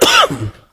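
A single short cough, close and fairly loud, trailing off quickly with no talking around it.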